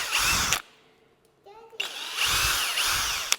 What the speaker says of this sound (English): this drill might be hot too